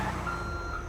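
A truck in a video game backs up to park, its reversing alarm sounding a steady, loud, evenly repeating electronic beep with a low engine hum underneath.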